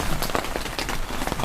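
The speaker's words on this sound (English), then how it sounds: "Oh, it's the rain stopping. The rain is stopping." Rain falling on a golf course makes a dense, continuous patter that stays loud and even through the brief moment, with no speech.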